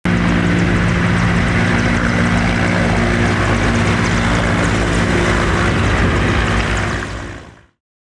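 Two firefighting helicopters work over a forest fire on a mountainside near Antakya, their loud, continuous rotor and engine roar throbbing steadily close by throughout.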